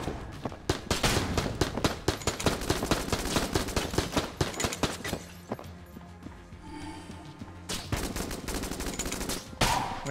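Rapid, dense gunfire fills the video game Enter the Gungeon, with bursts of shots and impacts coming close and loud. The firing pauses briefly near the middle, then resumes just as heavily.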